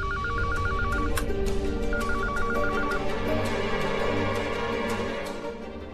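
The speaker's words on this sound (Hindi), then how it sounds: "माँ का फोन बज रहा है।" A telephone rings in two repeated electronic trill bursts, close and steady, over a low background hum.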